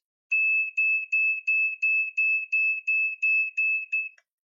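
A homemade electronic oscillator emits a steady high beeping tone in about eleven evenly spaced pulses, loud and close, each pulse sliding slightly down and snapping back up.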